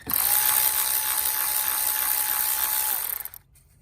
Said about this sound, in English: I'm going to hold my Milwaukee like a dagger so I can collect the screws in case they fall, or the bolts